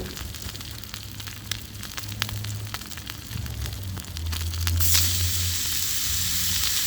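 Food sizzles in a frying pan over a camp stove at an outdoor stealth camp on an abandoned viaduct. A steady, close hiss and crackle runs throughout, swelling louder toward the end, with no talking.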